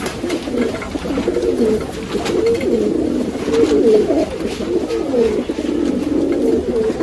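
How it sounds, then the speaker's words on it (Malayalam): Male pigeons coo steadily and closely, a continuous layered rumble of overlapping coos running throughout with no talking. "ഇപ്പം ആൺപ്രാവും കുറുകലെടുത്തിട്ടുണ്ട് കേട്ടോ."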